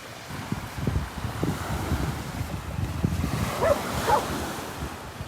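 Ocean waves wash in steadily on a windless day, a continuous low rushing surge with a few brighter splashes near the end, fairly close and without any voices.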